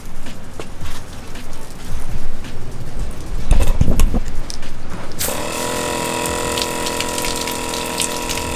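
A DIY budget camp shower sprayer hisses and gurgles in jet mode, pumped with a few knocks, then a steady, loud hissing stream of water takes over for the last few seconds.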